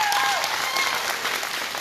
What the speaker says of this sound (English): Let's give the Lord a good hand clap